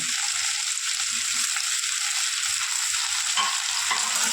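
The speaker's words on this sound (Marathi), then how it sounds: "आणि आता तांदळाला तेलामध्ये परतवून घेऊया आणि या भाज्या आपल्याला चांगलं पाच दहा मिनटं त्या परतवून घेतल्या" Vegetables and rice sauté in hot oil for masala pulao, giving a steady, continuous sizzle with soft stirring scrapes throughout, close and even in level.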